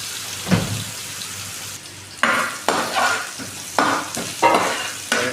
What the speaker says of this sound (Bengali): ফ্রাইড রাইস করবো, এই জন্য গাজরগুলো বাইতে আছি